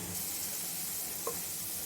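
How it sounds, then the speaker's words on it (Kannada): Chopped capsicum fries in a pan with a steady, close sizzle throughout and one small clink partway through. "ಒಂದು ಕ್ಯಾಪ್ಸಿಕಮ್ ಸಣ್ಣದು, ಅದು ಸ್ವಲ್ಪ ಫ್ರೈ ಆಗಬೇಕು"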